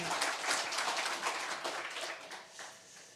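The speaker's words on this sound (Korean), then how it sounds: "우리 하나님께 영광의 박수 올려드리겠습니다" A church congregation claps during a Sunday worship service, a faint, brief patter of scattered hands that fades out after a few seconds.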